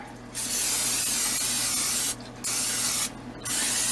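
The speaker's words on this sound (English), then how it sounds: "first I'm going to spray this canola oil on it so that nothing sticks." Canola oil sprayed from a can onto a glass cake pan in a kitchen gives three close, sustained hissing bursts separated by brief pauses, with no talking over them.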